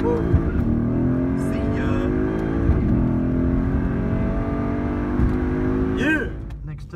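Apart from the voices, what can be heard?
Mercedes C63 AMG car accelerating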